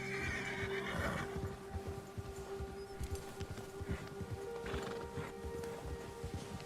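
Horse ridden at a steady clip-clop with snorts and a whinny near the start, in the Red Dead Redemption 2 video game, hooves close and continuous over a low ambient hum.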